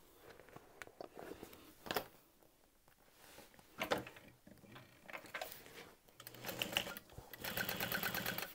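A sewing machine stitches a 3/8-inch exterior seam on a structured tote bag, running in short quiet bursts with pauses, then in a longer steady run near the end, with clicks of handling between runs.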